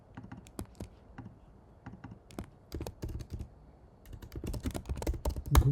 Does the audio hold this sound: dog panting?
no